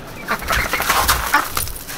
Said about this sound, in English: now I'm gonna go ahead and try to catch one of the ducks